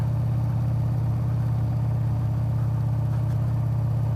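Motorcycle engine running steadily while riding on a beach, a constant low droning hum throughout with no change in pace, close and fairly loud, with no talking.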